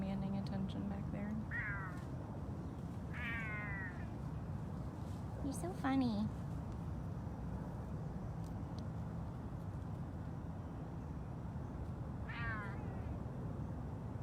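Serval cats at a sanctuary call out with several separate, fairly loud meows and trills spaced across a steady background hum, while someone talks in between.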